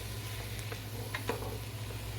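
Onions and a seasoning blend sauteing in a pot for split pea and ham soup, a soft steady sizzle with faint stirring scrapes, close and quiet with no talk.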